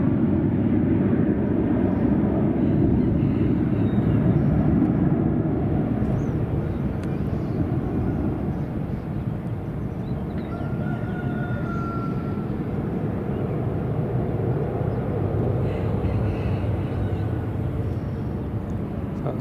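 A TUI airliner at Madeira Airport, its jet engines a broad, steady roar at moderate distance that swells early and holds as a continuous rumble, with no talk over it.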